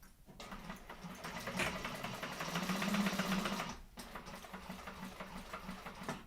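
Sewing machine stitching a seam in thick vinyl, a steady close mechanical whir with a brief pause before running on again.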